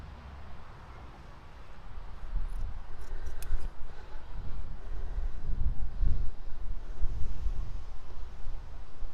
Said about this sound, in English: Then we're going to take our scissors